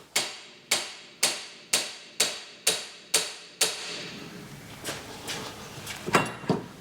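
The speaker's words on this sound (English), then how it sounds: "Now I've got to like hammer this lower ball joint to death." Seven sharp, evenly paced hammer blows ring out on a car's lower ball joint, each decaying quickly, followed by lighter scattered clanks and taps.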